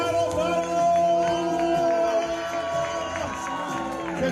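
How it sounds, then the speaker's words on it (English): Crowd at an Art Battle live painting event in San Francisco cheers and whoops after a countdown ends, a steady dense roar with music-like tonal lines underneath throughout. "Round of applause."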